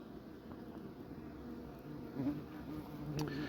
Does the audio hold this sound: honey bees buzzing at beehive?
yes